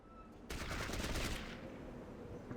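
A loud burst of rapid automatic gunfire in Fallout Tactics erupts after a brief quiet moment, then fades into a rumbling tail.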